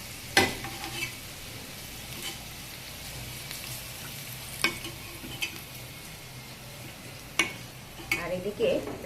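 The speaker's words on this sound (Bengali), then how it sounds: "দেখুন, ডালটাতে জল দিয়ে দিয়েছি। এবার ভালো করে নেড়ে মিশিয়ে নেব।" Dal with added water is stirred in a cooking pot, with a soft bubbling simmer underneath and several sharp clicks of a spoon against the pot scattered through.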